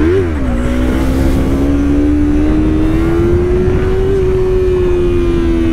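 A motorcycle engine revs loud and steady throughout a test ride, its pitch dipping briefly then climbing slowly, with wind and road noise underneath and no talking.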